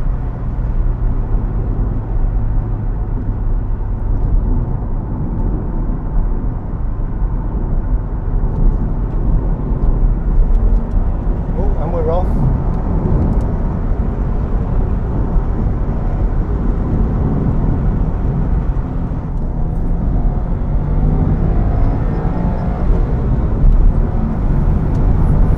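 Subaru Impreza WRX STI Type R Version 3 pulling in fifth gear, a loud continuous engine and road drone heard from inside the car, steady throughout with a brief whine partway through.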